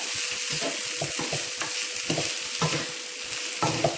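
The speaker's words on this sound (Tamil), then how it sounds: "நல்லா மிக்ஸ் பண்ணி விட்டுறணும்" Lentil usili mixture for karamani paruppu usili is stirred in a pan, giving repeated scraping strokes over a steady close sizzle with no talking.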